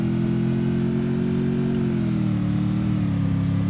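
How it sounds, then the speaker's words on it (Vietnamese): A motorbike engine in the shooting game Free Fire drones steadily and loudly, a low sustained hum whose pitch dips slightly partway through, with no talking. "Mấy con xe máy chạy kiểu này sợ lắm."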